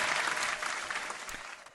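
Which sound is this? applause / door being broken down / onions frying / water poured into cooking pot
applause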